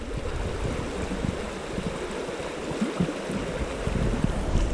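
Water flowing by an old stonework bridge at Whiteoak Sinks in the Smoky Mountains, a steady broadband rush of moving stream water, continuous and fairly close, with no talk.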